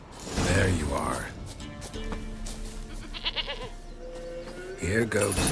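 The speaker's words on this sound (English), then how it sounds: "Here, goat." A goat in The Witcher 3: Wild Hunt gives loud, wavering bleats at the start and again at the end, with quieter game sounds in between.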